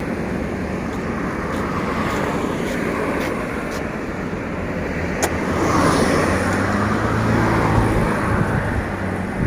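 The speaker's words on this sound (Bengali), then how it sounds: "এখানে কিন্তু অনেকগুলো বাইক কিন্তু এদিক দিয়ে যাওয়া আসা করতেছে" Motorbikes and road traffic stream past on a busy street, a steady loud roar of engines and tyres with a swelling pass partway through, no talking.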